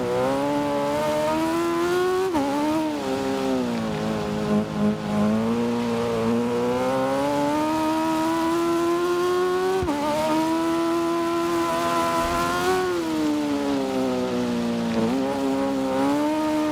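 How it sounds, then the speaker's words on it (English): Motorcycle engine in the Ride 6 racing game holds a loud, steady high-revving whine, with pitch sweeping up and down through gear shifts across the run, alone with no talk. "I'm just watching the bike and I'm just listening to it"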